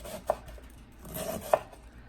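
A knife chopping cabbage: two sharp, crisp strokes on a board about a second apart, with faint kitchen background between them.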